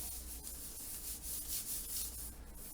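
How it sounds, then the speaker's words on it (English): A paper greeting card, an embroidered handmade card, is folded over and creased, giving a steady, close, soft rubbing and scraping of paper for a few seconds with no talking. "I'm going to fold this over to complete the card."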